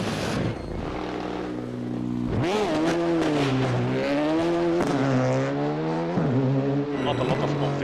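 A rally car on a stage of the Iasi rally in the Eastern European Rally Championship approaches and passes, its engine revving hard and rising and falling through gear changes, loud and close.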